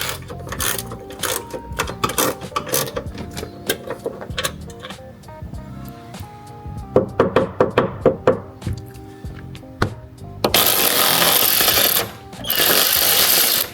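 Metal wrench ratcheting and clanking while a door stopper screw is worked loose on a Nissan R34, a close run of sharp clicks and knocks, followed by louder sustained rushing noise near the end.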